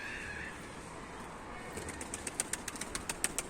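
A pigeon takes off in a coop, its wings flapping in a quick run of sharp claps that start midway and keep going close by, after a soft low hiss.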